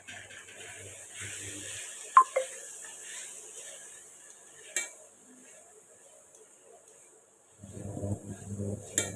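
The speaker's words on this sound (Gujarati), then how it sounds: "બટેકા જે કટ કરીને લઈ લીધા છે તે નાખી દઈશું" Cut potatoes for Surendranagar-style bhungla bateta go into a pan with a few sharp metallic clinks, then a quiet pause, followed by a soft scraping stir of the pan near the end.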